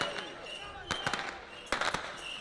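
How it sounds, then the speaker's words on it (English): Halftime fireworks at a football match at Kiwitea Street, Auckland v Waitakere, set off by a man with a bucket: a few sharp bangs in two clusters over steady crowd murmur, with a voice speaking underneath. "the bucket man with his fireworks"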